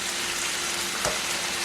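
Peas, corn and paprika sizzle and fry in a pan, a steady close hiss with a brief louder crackle near the middle.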